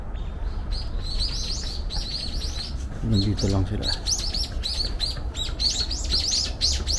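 Many birds at a Tokyo bird park chirp in rapid repeated bursts, close and steady, with a brief lower cooing call in the middle and a short spoken remark.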